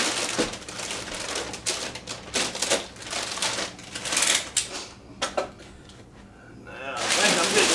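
Kite assembly with tape being pulled and pressed on in crackling, ripping bursts, close and fairly loud, on and off throughout with brief quieter gaps.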